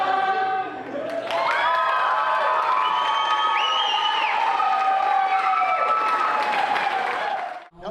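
A large crowd cheers and applauds with whoops and high shouted voices rising over dense clapping, loud and sustained for several seconds before fading at the end.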